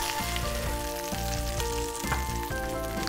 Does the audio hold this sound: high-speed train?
no